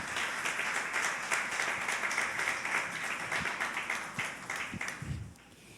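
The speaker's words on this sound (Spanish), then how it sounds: "démosle un aplauso al Señor por esta honra que nos ha dado" Applause from the congregation at a women's church congress, a dense steady patter of many hands clapping throughout, fairly loud and close, tapering off near the end with no talk over it.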